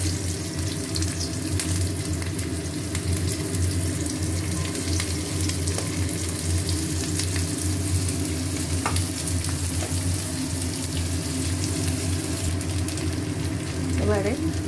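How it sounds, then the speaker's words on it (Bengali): Onion with green chilli fries and sizzles in a pan, a steady close hiss and crackle running throughout with occasional stirring scrapes. "ভালো করে পেঁয়াজটা ভেজে নিই।"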